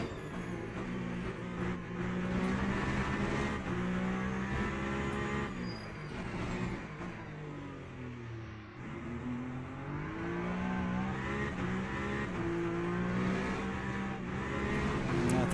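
A Peugeot hypercar engine drones and revs through gear changes during a race in Le Mans Ultimate, a continuous near whine rising and falling with shifts, faint voices underneath.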